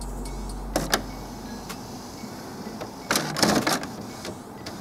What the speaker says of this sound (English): Lift them up, and the cartridges automatically slide over into position.